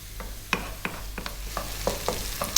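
Finely chopped onions fry over medium heat, giving a soft continuous sizzle broken by several light taps and scrapes of a spoon stirring them. Close and moderately quiet, with no speech.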